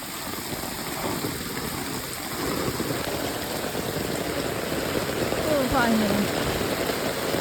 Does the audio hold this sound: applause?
no